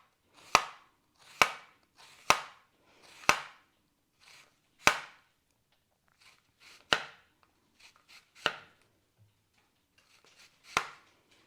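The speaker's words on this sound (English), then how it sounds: "chop up a little bit of this onion" A knife chops a red onion on a cutting board in sharp, close, irregular strokes: about a dozen crisp knocks, some with quick follow-up taps, separated by short quiet pauses.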